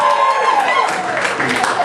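Non-smokers in a magic show audience answer with a short burst of applause and some cheering, a dense crowd sound blended with talk.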